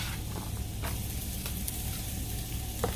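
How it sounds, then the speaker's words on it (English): Chopped onions hitting hot fat in a pan for smothered chicken and potatoes, giving a loud, close, continuous sizzle with a few faint stirring scrapes and no voices. "Now I'm going to add some chopped onions inside."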